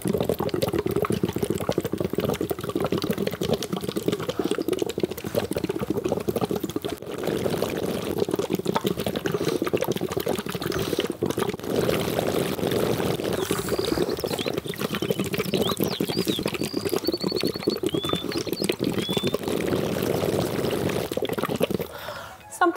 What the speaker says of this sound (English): have a water in a cup or a bottle like this with a straw so that we can visually see if the bubbles keep happening